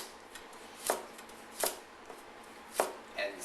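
A knife thinly slices vegetables on an angle for stir-fried noodles, giving sharp, distinct chops against a cutting board at an uneven pace, four or five crisp strikes with quiet gaps between.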